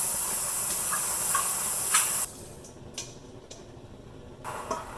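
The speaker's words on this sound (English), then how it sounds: "So get some boiling water, toss in your pork, and boil it on high heat." Pork blanches in a pot of water at a rolling boil on high heat, giving a steady loud hiss and bubbling with faint ticks, which drops abruptly to a quieter simmering hiss partway through.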